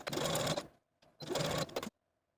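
A sewing machine zigzag-stitches elastic onto the seam allowance of a Mercier jumpsuit, using a 2.5 mm wide, 3 mm long stitch. It plays as two short, close bursts of rapid whirring separated by a brief pause, then falls silent.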